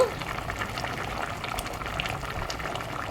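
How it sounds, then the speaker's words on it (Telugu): Water coming to a boil in a pot for egg curry, eggs cracked in, giving a steady close bubbling and seething with small pops throughout. "ఇప్పుడు వాటర్ కాగుతూ ఉంది కదండి"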